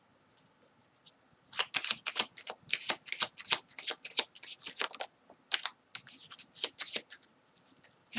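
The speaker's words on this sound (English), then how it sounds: "Let's take out some more cards." Tarot cards shuffled by hand, a close run of crisp riffling, snapping bursts that start after a few soft taps and continue in quick uneven clusters, loud against near silence.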